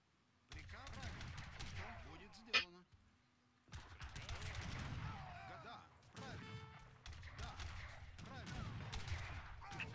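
Cannons and musket volleys crash in an Age of Empires 3 battle, bursts of booming shots and crackling gunfire coming in waves with brief pauses, while voices speak over the game sounds.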